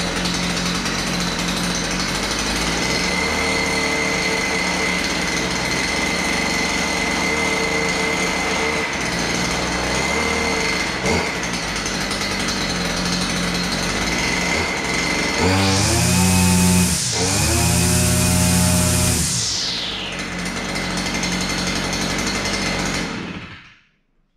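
A Stihl FS240R brush cutter engine idles with a loud, buzzing drone, then is throttled up twice in short revving bursts near the end before dying away.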